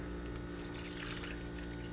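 Warm water, about 450 ml, pouring steadily into a bowl of bread dough ingredients (sugar, egg, yeast), a continuous close, full-bodied splashing gush with no pauses.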